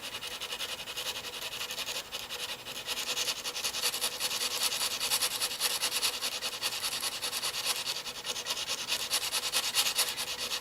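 A knife blade rubbed back and forth on 180-grit sandpaper during sharpening makes a steady, close, dry scraping hiss that holds through the whole stretch in fast, even strokes, with no voice over it.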